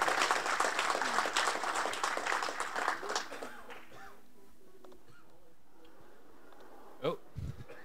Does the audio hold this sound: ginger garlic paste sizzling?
no